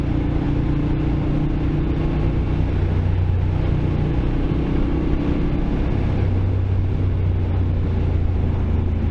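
Moto Guzzi Griso motorcycle engine while riding, a steady loud low rumble with constant drone and wind noise throughout, no voices.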